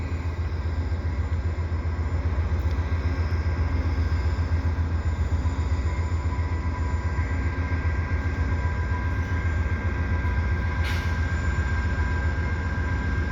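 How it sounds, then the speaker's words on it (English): A steady low rumble of a Via Rail passenger train engine idles and churns evenly at Dorval station, Montreal, about to depart, close and continuous, with faint mechanical hums layered on top. "Here we are about 1:15, and it's about to leave now"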